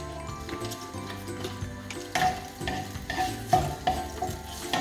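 Bacon sizzles and fries in a pan while carbonara is being made, a steady close crackle with occasional stirring clatter and a few sharper clicks, with no talk.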